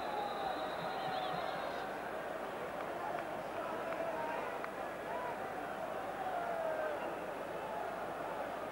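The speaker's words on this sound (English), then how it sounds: "There's the crowd." A large crowd roars and chants in the stands at the 1991 Turkey versus England European Championship qualifier, a steady distant wash of noise under a commentator's voice.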